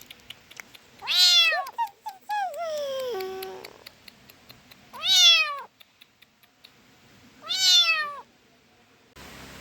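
A just-bathed kitten meows three times, loud and close, each cry rising and falling, with a longer drawn-out mew after the first.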